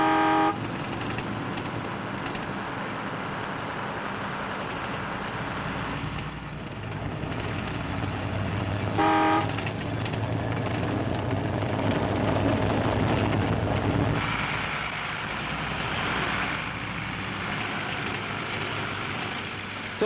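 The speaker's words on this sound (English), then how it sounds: "130 horsepower pulling 16 tons up Milliken Hill." A 130-horsepower truck hauling 16 tons of cement up Milliken Hill, its engine a loud, steady rumbling drone with road noise that holds throughout and swells slightly partway.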